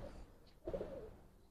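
A Giribaj pigeon of an old breed line gives a single low, throaty coo, close by and fairly quiet, with no talk over it.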